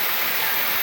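A waterfall roars as a dense, steady rush of falling water, loud and close, with no other sounds.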